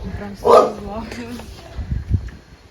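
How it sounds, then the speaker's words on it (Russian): A chained dog lets out one loud, close bark, followed by a few quieter, shorter yips. "звук был не зиплайна, а собаки на цепи"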